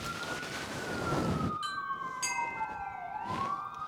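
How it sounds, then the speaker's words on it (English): Fire engine sirens wail through New York City streets, a loud sweeping tone that slides up and down, first alone and then joined by a second fainter siren, with no talk over it. "especially with the fire sirens"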